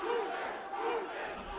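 A crowd at an MMA event roars and cheers in a sustained, swelling wave of many voices, fairly distant and continuous.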